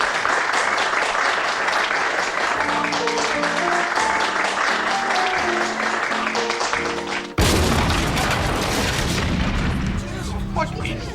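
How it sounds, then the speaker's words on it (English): Sharp gunfire-like bangs go off during a Fourth of July celebration aboard a cruise ship, loud booms layered over applause and steady music, with a sudden heavy burst about two-thirds of the way through. "it sounded like gunfire"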